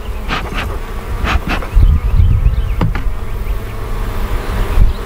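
Honey bees buzz loudly and close around an open hive during an inspection, with a dense droning hum and individual bees zipping past the listener.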